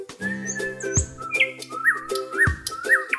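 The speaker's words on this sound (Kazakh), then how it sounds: "Оның көмегімен құс керемет сайрайды." A songbird sings alone, with clear tonal whistles and chirps that rise and fall in short phrases and are punctuated by a few sharp accents.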